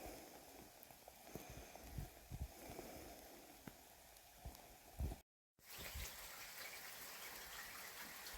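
Steady rain patters and splashes on a vegetable garden, with heavier drops landing on a surface, briefly cutting out before the downpour resumes.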